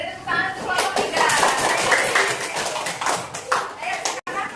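A classroom group claps for group three during a microteaching practice session: a short, dense patter of hands under overlapping chatter, close by.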